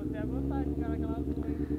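A Honda Hornet motorcycle fitted with an Atalla exhaust rumbles in a steady, deep, close drone, with a voice talking over it throughout.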